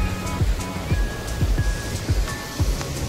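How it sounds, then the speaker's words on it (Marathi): Sea surf rolls in under falling rain at Chaityabhoomi on the Dadar shore in Mumbai, with repeated low wave surges breaking every second or so over a steady wash of water noise. "पाऊस चालू झालेला आहे आणि पाहू शकता समुद्र."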